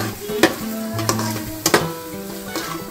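Spicy pasta sauce seasoned with ginger powder is stirred in a pan, a steady sizzle running under a few sharp spoon scrapes against the metal, close and moderately loud with no talking.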